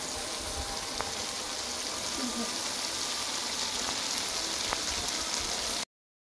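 Water pours steadily into a cooking pot holding dahuk (waterhen) meat, a continuous close rushing splash lasting about six seconds before cutting off abruptly.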